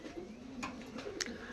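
A pet pigeon coos softly and faintly at a distance, its low, murmuring call standing over quiet background noise.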